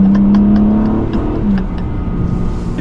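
A 2021 BMW M3 Competition engine revs hard and climbs in pitch, a strong low growl that surges and then settles into a steady drone.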